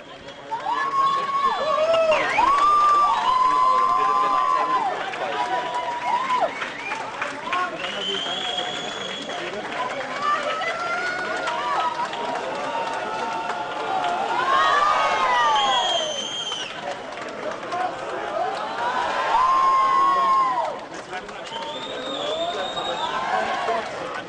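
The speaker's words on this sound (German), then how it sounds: "Applaus brandet auf" A large crowd at an Apple Store iPad launch cheers and applauds steadily, with whoops and excited shouts rising above a dense, loud wall of noise.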